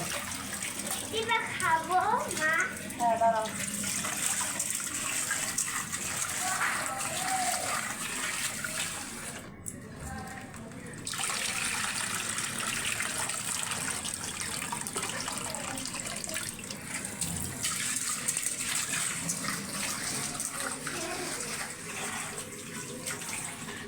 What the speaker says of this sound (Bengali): ডালটা ভালো মতো ধুয়ে নিতেছে